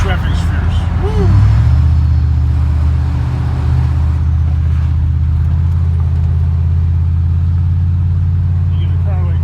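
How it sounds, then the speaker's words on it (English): Heavy road traffic rumbles steadily from inside a moving car, with a continuous low engine drone and cars passing close by, while a person talks briefly over the noise. "Wow, the traffic's fierce."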